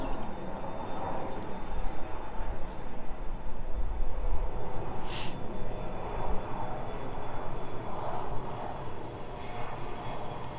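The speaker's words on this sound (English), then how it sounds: "there's a plane going by" An airplane passes overhead in Wilmington, North Carolina at sunset, giving a continuous broad engine roar that holds steady throughout with a faint hiss on top, and no one speaks over it.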